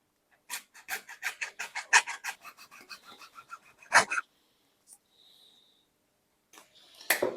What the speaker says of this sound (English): you can also cut the pipe using a junior hacksaw